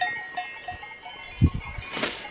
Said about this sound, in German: Und da steht so eine Kuh im Weg.